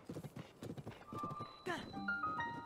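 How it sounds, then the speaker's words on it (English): Horse hooves clip-clop at a steady walking pace in the video game Tears of the Kingdom, a rhythmic string of close hoofbeats followed by a brief whinny, with game music and tones layered over it. "Bro, this horse goes so slow."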